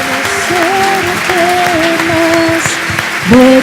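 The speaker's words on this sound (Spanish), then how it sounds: "Démosle un aplauso al Señor." A congregation applauds during an evangelical church service. The loud, steady clapping runs beneath sustained sung or held tonal notes.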